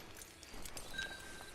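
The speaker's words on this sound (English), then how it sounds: "Get on the horse there." Horse hooves clip-clop faintly in Red Dead Redemption 2, a few soft, uneven hoof strikes at low volume with some game ambience.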